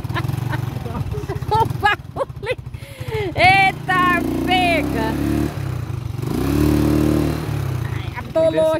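A motorcycle bounces across a bumpy pasture, its engine droning and revving unevenly beneath loud talking and excited voices throughout.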